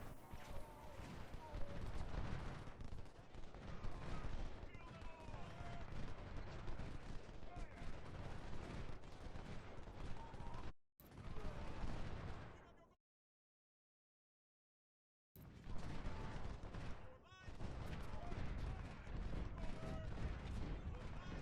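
Rapid, overlapping gunfire volleys from units in a video game battle crackle continuously, broken by a brief silent gap before resuming, with occasional heavier booms.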